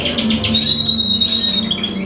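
Small pet birds kept for breeding chirp and squawk continuously nearby, their high, bright calls layered over a steady low room hum.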